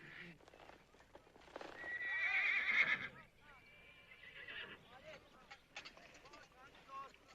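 Horse whinnying loudly in a western drama scene, one long neigh followed by a lively, scattered clatter of hooves, with voices and other background sound of the scene underneath.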